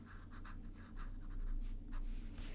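A Sailor fountain pen with a medium nib writes on paper, soft rhythmic scratching strokes close up and quiet, with no talking.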